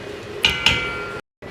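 A metal lid is set down on a cooking pot of boiling Liberian watergreen stew, giving two sharp clinks in quick succession over a low simmering background. The sound then cuts briefly to silence.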